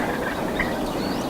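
A wild turkey gobbles during a spring hunt in Minnesota, a rapid, rattling call set against outdoor ambience, fairly close and clear.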